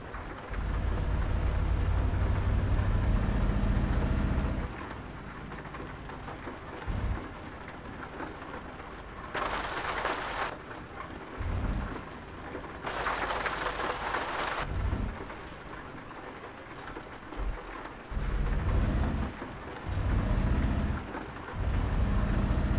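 Steady rain falls in Euro Truck Simulator 2 with rumbles of thunder, and two bright bursts of heavier noise break through the wash of the storm.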